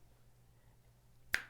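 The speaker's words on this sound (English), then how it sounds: "I've been like snapping my fingers if you're wondering what that noise is" A single sharp finger snap cracks out near the end, close and crisp, after a stretch of quiet room hum with no talking.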